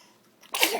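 A single abrupt sneeze-like burst from a young child at a window watching hail, coming after a near-silent stretch and fairly loud and close.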